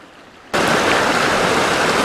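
A creek pours over a set of small waterfalls beside canyon walls, breaking in abruptly after half a second of quiet as a loud, steady broadband rush that holds unbroken to the end, with no voices.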